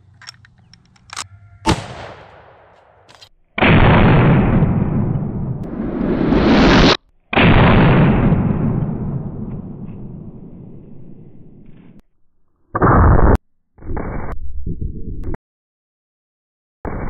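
A 45-90 rifle firing a North Fork 405-grain bullet into ballistic gelatin: a couple of sharp clicks, then loud broadband blasts with long decaying roars, followed by shorter bursts and pauses, with no talking.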